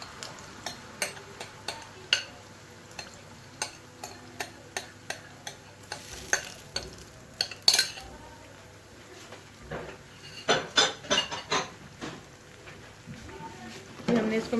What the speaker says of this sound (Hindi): अभी हम इसको अच्छी तरह से मिक्स कर लेंगे।